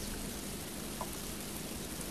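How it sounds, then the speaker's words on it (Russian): Steady rain begins falling in a hidden-object puzzle adventure game, a soft, even hiss of rainfall on surfaces spread across the whole moment with no voices. "И дождь пошел."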